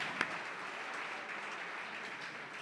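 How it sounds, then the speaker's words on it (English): An audience at a charity gala applauds for an honoree, a continuous wash of clapping from a crowd heard at a moderate distance, with one sharp clap near the start. "let's give Stacy a big round of applause"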